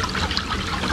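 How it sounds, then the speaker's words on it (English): Acid pours into a bowl in a video game, a short continuous trickling splash of liquid heard on its own. "Pour the acid into the bowl."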